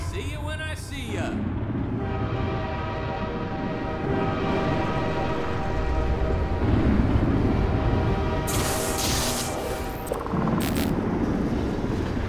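A train in the video game Half-Life 2 Episode One, a loud, sustained rumble with a steady tonal horn-like drone and metallic screeches, and a brief voice near the start.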